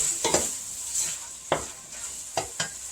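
Tomatoes go into a pan of frying onions: a steady bright sizzle with a few sharp clatters and stirring knocks spaced through it, close and fairly loud, with no voices.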